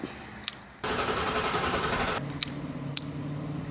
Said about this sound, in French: on va allumer la trottinette. Ah, démarre difficilement.